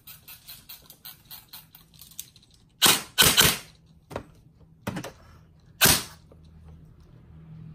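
A run of quick, faint ticking gives way to about six sharp, loud snapping shots from an E&C 802 airsoft gun firing 0.20 g BBs, fired singly at irregular intervals close by.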